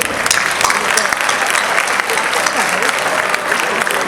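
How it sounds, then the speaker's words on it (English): An audience at a school English debate between 11th and 12th grade teams claps for both sides, a dense, steady burst of applause filling the short span. "Applause for both the sets here"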